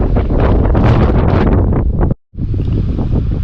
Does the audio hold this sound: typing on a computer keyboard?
no